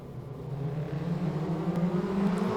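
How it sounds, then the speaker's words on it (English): Modlite speedway race cars at Kingaroy Speedway building revs at the start of an Australian title B-main, a steady, moderately loud engine drone that rises gradually in pitch and intensity. "Revs build, let's go racing over the white line and past the witch's hat."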